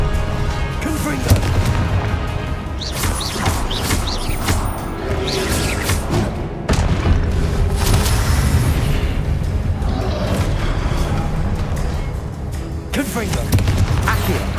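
Confringo fire spell blasts in Hogwarts Legacy: a string of loud, booming explosions and bursts at irregular intervals over busy combat noise, with a voice speaking at times between them.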